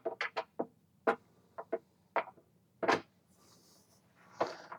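Wooden cabin doors on a 2017 Tartan 4300 sailboat are handled and stowed, giving a close series of sharp knocks and wooden clunks in irregular bursts, with a softer rustle near the end.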